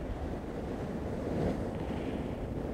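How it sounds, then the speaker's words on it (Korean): Heavy ocean swells surge against a rocky shoreline in strong wind, a dense continuous roar of surf and wind buffeting with no voices. "바람도 여전하고 무엇보다도 갯바위를 삼킬 듯한 너울의 기세는 정말 무시무시할"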